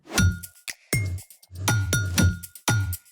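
A bright metallic notification bell dings about six times in an uneven rhythm, each strike sharp with a short ringing tail, alone and close.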